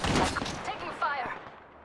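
Bursts of gunfire crackle in an Apex Legends match, a quick volley of shots followed by another sharp report, mixed with a voice calling out over the fight.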